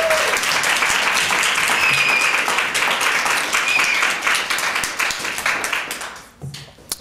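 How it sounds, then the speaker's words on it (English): An audience at a poetry reading applauds steadily, a dense wash of many hands clapping that holds for several seconds, then tapers off into a few scattered claps. "Please give her another round of applause."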